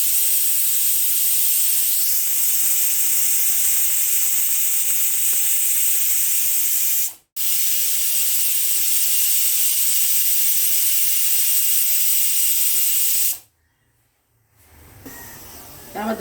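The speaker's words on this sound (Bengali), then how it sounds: "আমার 2টো সিটি হয়ে গেছে, আর একটা সিটি দিলে আমি নামিয়ে নেবো।" A pressure cooker whistles as it cooks mutton masala curry, giving a loud, continuous close steam hiss. The hiss breaks off briefly, resumes, then cuts out near the end, leaving quieter sounds.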